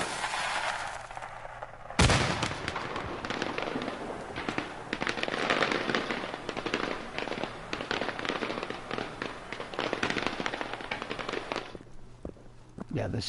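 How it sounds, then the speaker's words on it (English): Fireworks going off in the video game Generation Zero, a rapid string of sharp crackling bangs and pops that begins with a loud burst and continues densely, a few near and some more distant. "Or like when you do fireworks and these like help distract."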